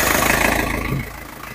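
An Isuzu Panther 2.3 car engine catches and settles into a steady idle, a brief, close mechanical rumble with no talking.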